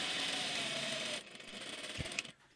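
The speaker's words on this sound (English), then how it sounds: "I overlocked all of the raw edges where I joined" An overlocker serges the raw edges of a summer skirt's panel seams with a steady, fast mechanical whir that runs continuously and then cuts off abruptly, followed by a few faint clicks.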